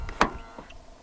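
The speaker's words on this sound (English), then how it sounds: "To lock the car, press the black button on any of the front door handles." Pressing the keyless door-handle button locks a 2022 Mitsubishi Xpander with a single sharp mechanical click, followed by a few faint, brief chirping ticks in a quiet setting.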